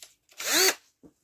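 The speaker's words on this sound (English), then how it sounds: "put a drill brush on that" A power drill fitted with a brush attachment spins up briefly against a bicycle R nut during a Raleigh Chopper Mk2 restoration, giving one short, close whirring burst between small handling knocks.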